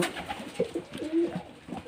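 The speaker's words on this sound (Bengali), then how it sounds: "আমার ভালোবাসার কবুতরগুলা দেখার জন্য" Pigeons cooing at a farm, several soft repeated coos overlapping in a close, continuous murmur with no talking.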